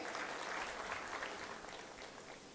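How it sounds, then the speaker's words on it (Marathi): A crowd applauding at a political rally speech by Ajit Pawar, dense, steady clapping from many hands heard from a distance, continuous and even throughout with no voices over it. "आणि लगेचच दादांसाठी जोरदार टाळ्या झाल्या पाहिजेत."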